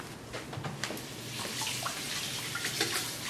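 Running tap water splashes as something is washed under the faucet, a steady hissing rush with small uneven spatters throughout, fairly close and moderately loud.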